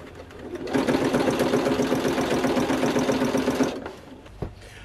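A sewing machine runs steadily for about three seconds as it top-stitches a folded seam on a sewn jacket, a fast even mechanical whir that starts and stops cleanly, followed by a single soft knock.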